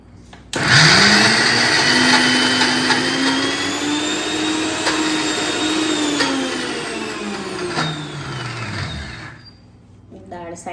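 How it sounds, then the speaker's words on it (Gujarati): A kitchen mixer grinder whirs loudly as it grinds soaked lentils with water for khaman, its motor pitch rising and sagging under the load for about nine seconds before it winds down. "હવે જારને બંધ કરી આપણે સ્વિચ ચાલુ કરો, મિક્સરમાં પીસી લઈશું."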